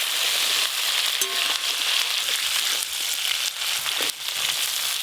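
Tiger prawns frying in a pan, a continuous bright hiss of hot oil sizzling steadily, close and loud, with a few faint clicks of stirring.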